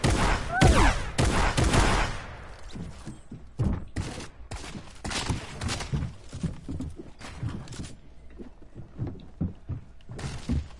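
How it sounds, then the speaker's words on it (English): Gunshots in a video game ring out as a loud rapid volley at first, then scattered sharp shots and bursts continue more sparsely over a quieter background. "You heard that? Shooting?"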